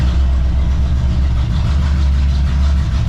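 Loud, steady rumble of a small block Chevy V8 in a 1982 Camaro Z28 idling up close, a deep continuous throb with no talking.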